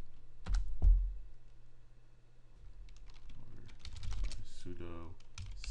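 Someone types a command on a computer keyboard while installing OpenCV on a Raspberry Pi, a quick burst of light key clicks at close range, with someone talking around the keystrokes.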